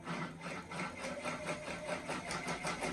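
An embroidery sewing machine stitches yarn with a rapid, rhythmic mechanical whirring and clatter that pulses steadily throughout, up close and fairly loud.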